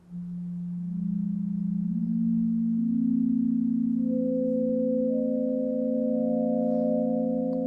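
A Haken Continuum plays pure sine tones that stack into six-voice polyphony, one steady low note gliding up and joined by higher held notes, clean and sustained with no other sound.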